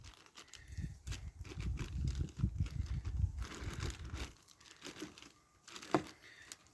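A plastic bag holding a foam-filled monster prop crinkles and rustles close up in rapid, irregular bursts while it is shaken, then goes quieter with a few scattered crackles.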